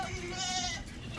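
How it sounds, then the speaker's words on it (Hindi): Teddy goats in a pen bleat in a steady, close chorus of wavering calls that fills the whole moment, with livestock noise underneath. "बिल्कुल ज़बरदस्त और ख़ूबसूरत ये सेट है टेडी बकरों का"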